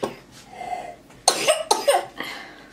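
Two or three sharp, close coughs come in quick succession in a home kitchen during baking, after a quiet stretch of soft breathing and faint background noise.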